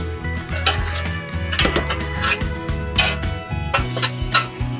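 A utensil stirs finely chopped garlic in a pot for salmon stew, making repeated close scrapes and light clinks against the metal over a steady musical background.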